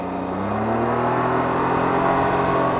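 A 2019 Can-Am Ryker 900 three-wheeler accelerates, its engine note rising in pitch after a brief hesitation, loud and close over steady wind and road noise, with no talking.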